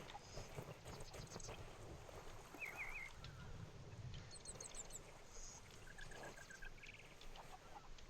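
Chickens in the pirate video game Sea of Thieves give a few short, faint clucking bursts over steady wind and sea ambience, with no talking.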